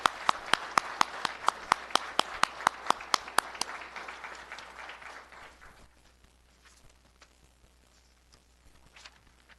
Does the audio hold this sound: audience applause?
yes